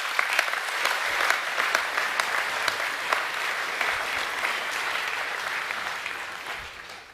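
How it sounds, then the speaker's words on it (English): An audience at a school academic assembly applauds in a sustained, dense wash of clapping that stays even for several seconds before tapering off at the end. "so can we all give him a round of applause, please?"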